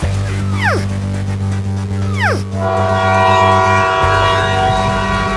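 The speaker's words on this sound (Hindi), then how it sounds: "अरे चिंटू और चिंकी, इसी लाइन पर आगे से एक और ट्रेन आ रही है।" Train on a railway line with its horn blaring loud and steady, a low engine rumble underneath and a short squealing whine over it.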